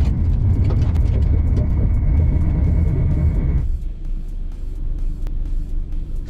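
ABS brakes pulsing on a Chevrolet S10 pickup braking hard from 80 km/h on gravel, a loud rumbling rattle that cuts off abruptly as the truck stops, leaving quieter low rumble.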